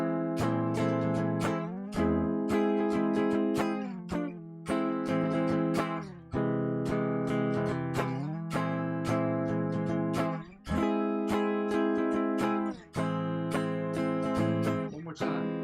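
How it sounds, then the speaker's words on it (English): Clean guitar strumming inside chord shapes on the bottom four strings, rhythmic chord hits repeating in steady bars with brief pauses between changes, close and loud with no voice. "Inside chords which sound like this."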